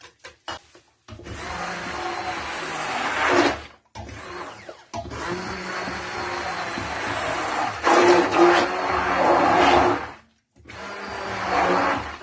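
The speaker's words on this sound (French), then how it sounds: "avec le mixeur à main." Hand blender whirring through dough in long continuous bursts, loud and close, pausing briefly between runs, with no talking.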